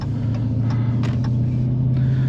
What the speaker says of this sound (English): that V8 noise is just Oh, such intoxicating noise